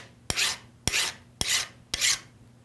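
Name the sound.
flat file filing chainsaw raker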